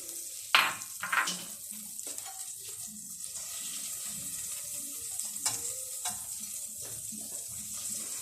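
Melted butter for bechamel sauce is whisked through a pot with a wire whisk, giving a steady scraping, sizzling swish. A couple of sharper clanks come early, and no one talks over it.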